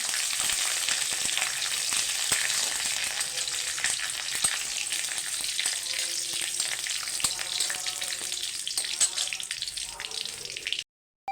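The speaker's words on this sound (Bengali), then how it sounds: "তেল দিয়ে দিচ্ছি কারি পাতাটা ভেজে তুলে রাখবো" Curry leaves fry in hot oil with a loud, continuous crackling sizzle close by that carries on steadily, then cuts off abruptly at the end.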